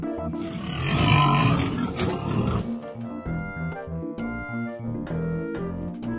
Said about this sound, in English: Here is the pig.